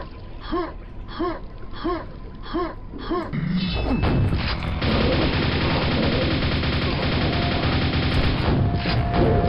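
Gunfire in the retro shooter Quake, a dense, loud run of shots and booms that starts partway through and keeps going, after a stretch of repeated game effects.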